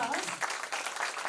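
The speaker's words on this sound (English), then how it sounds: "Can we give them a big round of applause?" Brief, fairly faint applause from an audience at a school Scifari 2025 event, a dense crackle of clapping hands that fills the moment.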